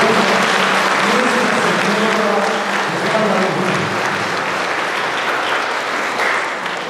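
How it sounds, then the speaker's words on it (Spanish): Sustained crowd applause fills the air at an annual fair and horseback parade in La Cañada Guadalupe, greeting the image of Santa María; steady, dense clapping that stays loud throughout with a hint of voices underneath and tapers slightly at the end. "Fuerte ese aplauso para la imagen de la Santa María."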